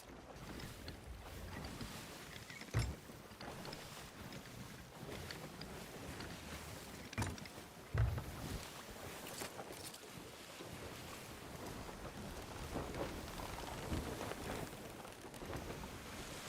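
A sailing ship moving across open water in the video game Sea of Thieves, with a continuous wash of waves and wind noise and a couple of brief thumps, with no talking.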